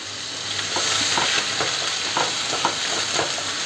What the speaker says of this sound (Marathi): तर आपण कांदा जरा थोडासा 2-3 मिनटं आपण तेलावर परतून घ्यायचं आहे.